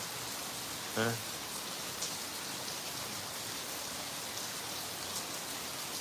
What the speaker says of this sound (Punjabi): ਦੇਖੋ ਜੀ ਬਹੁਤ ਜ਼ੋਰਾਂ ਦੀ بارش ਹੋ ਰਹੀ ਹੈ ਇਸ ਟਾਈਮ